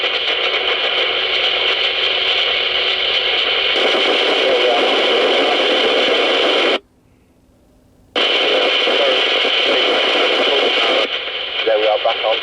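Loud, hissy FM CB radio transmission from an Amstrad CB901, full of static and crackle, with a brief dropout to near silence partway through before the noisy signal returns.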